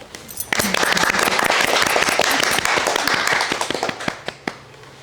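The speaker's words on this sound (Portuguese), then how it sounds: "Uma salva de palmas." A room full of people claps loudly and densely after a group talk, a sustained burst of applause that thins into scattered claps toward the end.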